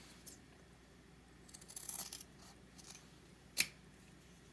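Scissors snip through serger thread on a Merrow overlock machine, a few short crisp cuts, the loudest near the end, close by in an otherwise quiet room.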